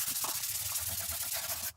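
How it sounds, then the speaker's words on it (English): A sanding block rubs across a drywall patch, producing a dense, continuous scratchy hiss with slight back-and-forth surges, close by, stopping abruptly at the end. "I'm just going to sand everything, get it as smooth as I can."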